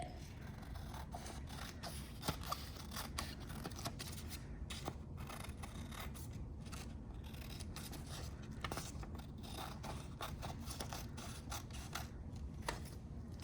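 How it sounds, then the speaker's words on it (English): Scissors snip steadily around a paper circle, a quiet run of repeated close-up cuts with faint paper rustle and no talking. "we're also gonna go ahead and cut out that circle. So you can cut it out into one big circle. So I'm gonna cut it."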